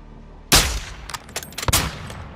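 Sniper rifle shots in the video game Call of Duty Modern Warfare 2022: one sharp, loud crack with a booming tail, followed by a cluster of quieter impact thumps and a second heavy report near the end.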